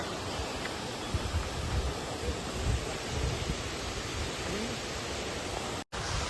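A steady, dense roar of falling water from the Ukshi waterfall beside the Konkan railway line fills the scene, with wind buffeting the microphone and a brief dropout near the end.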